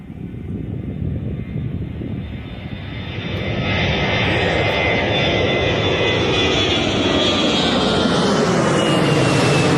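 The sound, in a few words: EasyJet Airbus A320 departing, flying overhead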